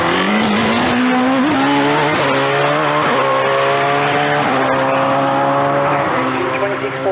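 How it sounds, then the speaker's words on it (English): A big hill climb race car at Gurston Down brakes hard into a bend and slides around it. The engine note is loud and close, with rising and falling revs and tire squeal throughout. "He gets on the brakes into carousel, slides the big car around the bottom of the cockpit"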